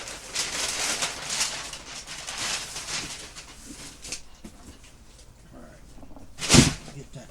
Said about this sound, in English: Excuse the rustling of the paper.